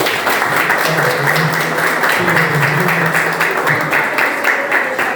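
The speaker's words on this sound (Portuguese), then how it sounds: "Mais uma salva de palmas, Flávia." Sustained, loud applause from an audience at an environmental law commission event, a dense wash of clapping lasting throughout with faint voices mixed underneath.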